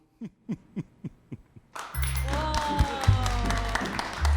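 Audience applause at a televised regional show featuring a cooking opera singer, a dense wash of clapping breaking out after a few short spoken syllables and holding steady to the end, with music playing underneath.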